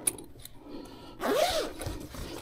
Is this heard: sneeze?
no